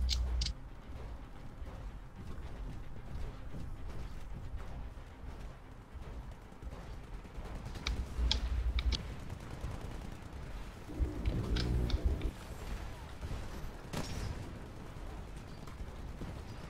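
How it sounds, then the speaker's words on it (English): Small arms gunfire in the video game Titanfall, scattered sharp shots and bursts with dull thuds and booms at moderate level, no talk. "Some guys do exchange fire. You know, small arms fire."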